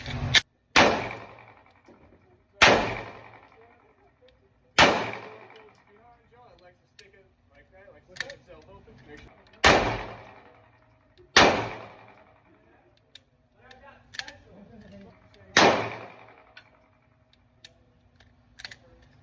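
A Walther PDP Full Size pistol fires eight sharp, loud shots spaced a couple of seconds apart, each crack followed by a short ringing decay, with quieter handling clicks between them.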